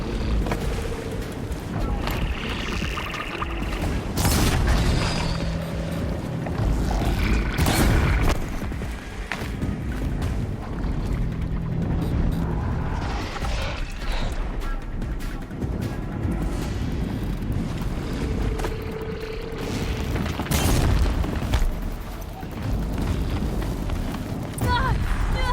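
Machines exploding in Horizon Zero Dawn, heavy booming blasts with rumbling low-end bursts around several moments, set against continuous game ambience and a voice talking over it.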